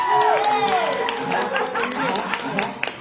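Open mic night audience gives a loud group cheer, with whoops and scattered claps rising together at once and fading into chatter and a little laughter, a few sharp claps near the end.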